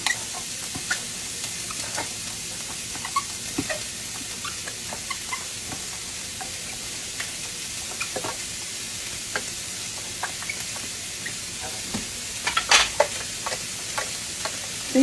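Ingredients for a shepherd's pie sauté in a pan with a steady, moderate sizzle and occasional scrapes and clicks of stirring throughout, with a few sharper utensil knocks near the end.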